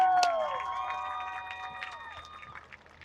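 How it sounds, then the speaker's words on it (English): Crowd cheering and applause at a Mississippi State marching band competition, a swell of shouts and whoops near the start that fades gradually over a few seconds. "Would you please give them a round of applause for their great finish this year?"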